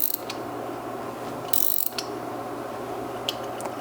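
A ratchet wrench cranks a part into place while working on an IROC car, giving a steady run of close mechanical clicks with a couple of brief sharper bursts and no talking.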